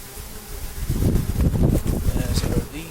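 Honeybees humming at an open hive in an apiary, a dense close buzz swelling loud and steady over a few seconds as foragers return with pollen; a voice is briefly mixed in.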